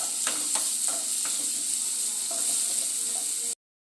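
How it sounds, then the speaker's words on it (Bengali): Ginger and garlic paste fries with chicken mince for a spiced keema, a steady bright sizzle running throughout while a spoon scrapes the pan in several short strokes, close and fairly loud, ending abruptly. "দিয়ে দেবো 1 চামচ আদা পেস্ট, 1 চামচ রসুন পেস্ট, পুরোটাই দিয়ে দেবো। দিয়ে একটু নাড়াচাড়া করে নেব"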